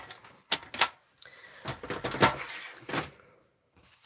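Close, crisp snips and slicing scrapes of a paper trimmer cutting patterned craft paper for a handmade clipboard, in several uneven strokes followed by a short pause and a final light tap.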